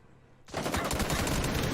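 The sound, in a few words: gunfire spraying bullets in PUBG video game match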